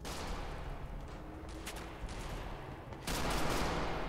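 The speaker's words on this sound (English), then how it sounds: "Thought I heard a gunshot" Gunfire from a video game, a rough volley of shots crackling steadily over several seconds, with a louder burst near the end.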